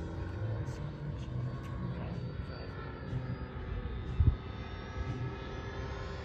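A Sopwith Pup biplane circles the field at the Warbirds Over Cherry Creek 2024 airshow, its engine a faint, distant, steady drone with a brief thump partway through and people talking nearby.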